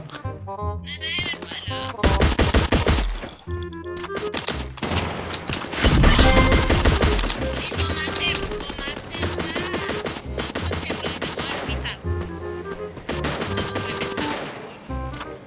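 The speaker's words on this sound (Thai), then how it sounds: "ใครยิงรัวขนาดนั้นนะ" Rapid bursts of automatic gunfire from the Free Fire video game crackle loudly and densely, with overlapping volleys and sharp impacts packed together over game music and effects.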